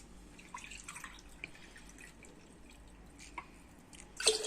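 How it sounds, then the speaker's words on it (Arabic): Water poured from a glass into a pot: faint scattered drips in a quiet room, then a short splash right at the end. "غادي نزيد عليه 4 الكيسان ديال الماء"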